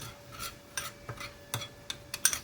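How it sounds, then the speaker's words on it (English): A salmon muffin mixture with nori and sesame seed is stirred in a bowl, giving soft rasping scrapes and light utensil clicks in an irregular rhythm, close and quiet. "So now let's stir everything together"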